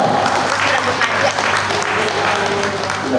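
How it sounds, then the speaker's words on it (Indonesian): An audience applauds for Rudi Suharto at an evening gathering, steady, dense clapping that holds for about three seconds without a break. "Tepuk tangan untuk Rudi Suharto"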